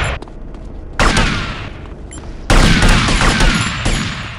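Loud gunfire in GTA Vice City played on Android: dense volleys of shots break in abruptly at about one second and again at two and a half seconds, over continuous game noise with no talk.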